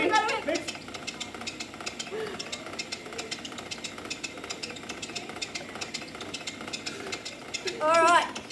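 Cake batter being mixed, probably by an electric mixer whirring steadily in a bowl, with an adult voice chattering over it and a brief louder burst near the end.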